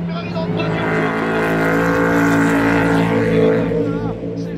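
Le Mans 24 Hours race cars, a Ferrari and a Toyota Camry among them, roaring past close by, with engine notes swelling to a peak, then dropping in pitch as they pull away under a commentator's voice.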